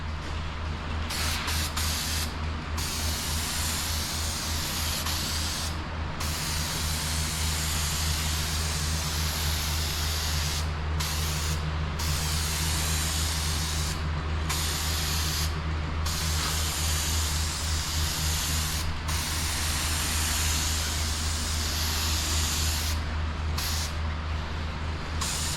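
Steady hiss of an aerosol can dusting a coat of paint onto Duramax truck parts, a long continuous spray with a few brief interruptions, close and even in volume.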